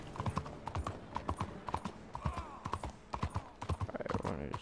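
Horse hooves clip-clopping in Red Dead Redemption 2, a brisk, uneven rhythm of close hoof strikes on open ground, with a faint whinny and background game sounds.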